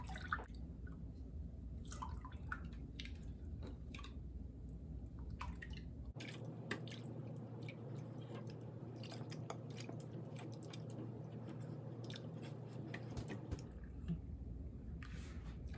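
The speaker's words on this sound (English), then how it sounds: "you have to cook and stir this mixture until it's thickened and" Es cendol mixture being cooked and stirred in a pot as it thickens, giving soft wet squishing and dripping sounds over a steady low background hum, with no talking.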